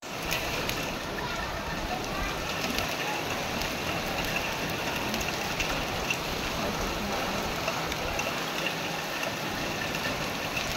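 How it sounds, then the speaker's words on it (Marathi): Heavy monsoon rain pours steadily and loudly outdoors, a dense unbroken wash of drops on surfaces lasting throughout, with a faint engine-like rumble underneath. "खूपच मोठा पाऊस येतोय."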